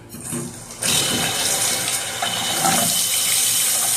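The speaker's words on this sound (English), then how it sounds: "We're gonna turn on the water." Newly installed Delta faucet turned on, steady loud rush of running water into a sink that starts abruptly after a brief quiet lead-in and keeps flowing evenly to the end.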